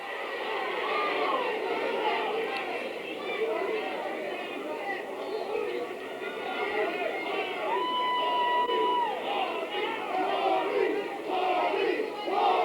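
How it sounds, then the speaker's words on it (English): A pro boxing arena crowd at a women's bout in New Mexico roars and chants throughout, a dense, sustained wall of massed voices with rising shouts under steady commentary. "Again, the crowd getting behind Holly Holm. The chant of Holly going up."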